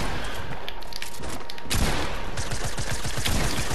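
Rapid video-game gunfire bursts out in a dense fusillade, faint and smeared at first, then sharp, close shots rattle off in quick succession.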